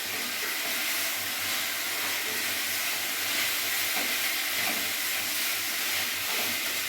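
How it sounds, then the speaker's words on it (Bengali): Fried cauliflower pieces being stirred in a hot pan for cauliflower korma, a steady loud sizzle and hiss with faint scraping throughout, no voices. "এরই মধ্যে আমি এই ফুলকপি ভাজা যে ভেজে রেখেছিলাম এটা পুরোটা দিয়ে দেবো, দিয়ে আমি ভালো করে নাড়াচাড়া করব।"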